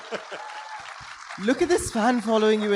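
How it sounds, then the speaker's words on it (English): A festival audience applauds Stephen Fry at a Jaipur Literature Festival talk. The clapping rolls along under a host who speaks over it, as voices come to the front. "One more loud round of applause for Stephen"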